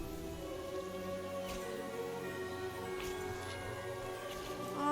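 Magical rain conjured by a spell in the video game Hogwarts Legacy patters steadily, layered over a sustained musical drone and soft scattered taps, with no talking.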